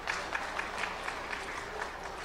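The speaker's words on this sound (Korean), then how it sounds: "큰 박수 부탁합니다" Applause from an audience at a security civic groups' rally in a hotel in Sogong-dong, steady dense clapping filling the whole short stretch at moderate distance.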